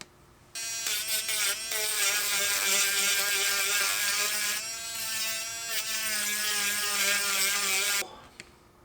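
A leather wallet piece has its edge sanded with a powered tool, producing a steady high-pitched whirring drone of about seven seconds that starts and stops abruptly, close and loud.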